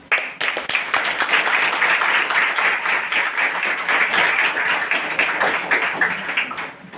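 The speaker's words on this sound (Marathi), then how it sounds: "टाळ्या इकडून जास्त वाजल्या." A crowd of school students clapping at a school function, loud sustained applause lasting several seconds with dense overlapping claps that fade slightly at the end.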